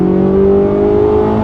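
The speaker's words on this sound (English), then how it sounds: "I love the sound of that E-Ray" A Corvette E-Ray, its engine and electric motors working together on a track, accelerating with a steady, loud, close drone that holds a smooth pitch throughout.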